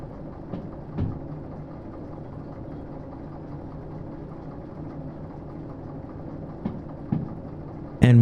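A locomotive engine runs steadily in the train simulation game Derail Valley, giving a low, continuous rumbling drone with a few soft clanks and thumps, and a louder knock right at the end.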